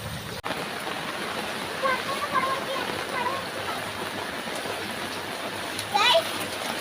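Constant rushing flow of rainwater from heavy rain pouring and splashing into a house nearby, with faint voices in the background.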